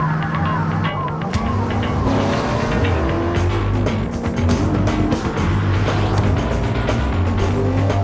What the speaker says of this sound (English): The newly redesigned 2004 Pontiac Grand Prix with 260 horsepower to help you get the most out of your ride.